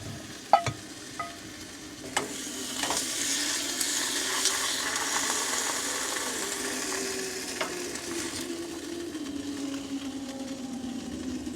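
A small steak frying in a pan, a steady close sizzle running throughout with a few sharp clicks early on and no talking.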